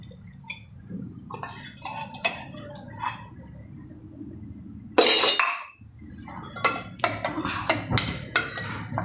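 Clinks and scrapes of a utensil against a metal pot of Rajasthani dal, irregular and close, with a brief louder burst of sizzling or splashing midway as hot tempering is poured in.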